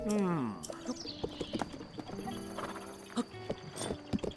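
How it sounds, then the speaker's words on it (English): A horse neighs loudly in The Legend of Zelda: Breath of the Wild, followed by a series of clip-clopping hoofbeats and game sound effects. "It's just a horse."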